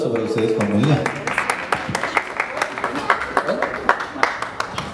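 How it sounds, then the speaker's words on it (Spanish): Scattered clapping from family members at a mariachi birthday celebration, a crowd applauding in uneven bursts after a voice with lingering musical tones, growing into steady applause. "El aplauso para ustedes, familia."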